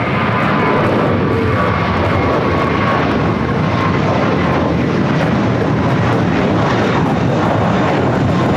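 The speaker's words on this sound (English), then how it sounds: "China Airlines cargo, 777 going short on us" A China Airlines Boeing 777 freighter at LAX gives a sustained, loud jet roar with a faint high engine whine running through it, steady from start to finish.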